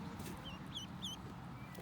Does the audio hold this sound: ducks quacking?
yes